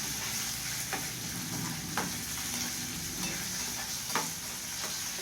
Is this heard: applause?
no